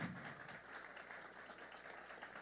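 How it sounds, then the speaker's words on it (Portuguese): An audience at a philosophy talk event applauds the invited guest speaker, a steady wash of many hands clapping at moderate distance, continuous and even throughout with no voices over it. "Gostaria de encerrar o evento de hoje com um aplauso à nossa ilustre convidada."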